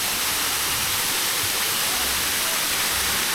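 Steady, rushing roar of an artificial waterfall in the Yelagiri Hills, India, continuous and close, a dense hiss with no voices over it.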